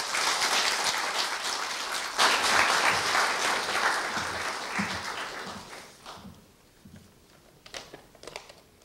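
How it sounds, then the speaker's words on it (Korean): A room full of people applauding loudly at a university staff retirement ceremony, the clapping swelling early and then gradually dying away into a few scattered claps. "조금생 부장님을 큰 박수로 맞이하여 주십시오."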